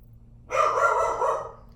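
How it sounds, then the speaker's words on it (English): A dog lets out a single drawn-out bark indoors in the evening, close and fairly loud against a quiet room hum. "Has Pippin barked every single time I've painted?"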